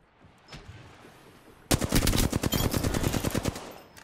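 An enemy fires an automatic weapon in a video game. A quiet stretch gives way to a loud, sustained burst of rapid, evenly spaced shots close by, ending in a brief tail.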